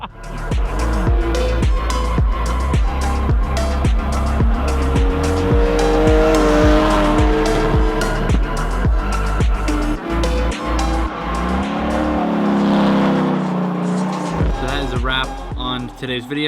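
A drift car rips through a ride-along with loud, constant engine revving and repeated long tire squeals. Passengers talk over the din inside the car.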